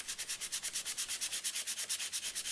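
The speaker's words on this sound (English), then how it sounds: "So now I can do some inside sanding." Hand sanding inside a wooden piece held together with super glue, a quick, even back-and-forth rasp of abrasive on wood repeating about eight times a second, close and steady.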